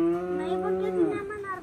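A cow moos once outdoors in the countryside, a single drawn-out, fairly close call that bends downward near its end.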